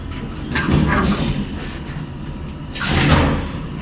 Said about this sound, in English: Let's let the door close and then you can select 3.